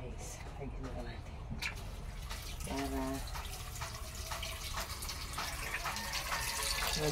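Water pours steadily into a cooking pot, two cups for boiling mangosteen peel, a continuous trickling, gurgling stream heard close by, while someone talks over it throughout.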